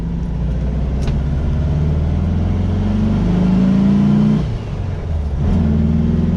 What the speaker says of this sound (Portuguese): é uma delícia acelerar esse 1600 com dupla carburação